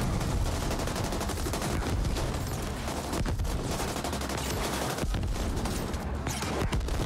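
Pistol gunfire from the top-down shooter The Ascent, dense and continuous, packed under a loud pounding soundtrack and layered combat effects with no clear breaks between shots.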